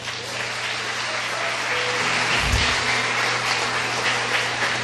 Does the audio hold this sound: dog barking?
no